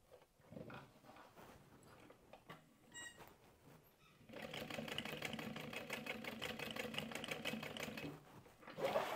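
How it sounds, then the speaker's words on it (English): A sewing machine stitches an apron, starting with a few short stop-and-start bursts before settling into a steady, rapid, rhythmic whir for several seconds, close and moderately quiet. "Back stitching well at the beginning and the end there."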